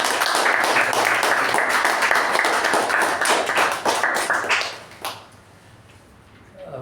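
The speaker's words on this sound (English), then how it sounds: "Let's give both of them a big round of applause." Audience members at a Toastmasters meeting clap in a brisk, fairly close round of applause lasting about five seconds before tapering off into quiet room sound.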